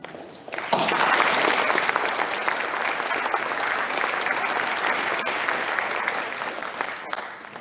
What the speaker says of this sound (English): a big loud, thunderous applause when she comes